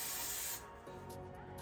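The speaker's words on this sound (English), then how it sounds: "I want to spray a little more hairspray right in here" Hairspray blasts from an aerosol can onto sleek braided hair, a close, steady hiss lasting about half a second before cutting off, followed by quieter rustling.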